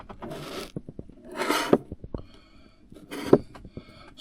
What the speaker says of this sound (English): I find that a scraper works the best to get it out